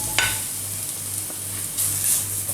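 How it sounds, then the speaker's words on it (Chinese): Garlic and chopped dried radish stir-fry in a little peanut oil over low heat, giving a soft, continuous sizzle with light scraping of the stirring utensil. "加入刚才切好的蒜头，翻炒一下，再加入刚才切好的萝卜干"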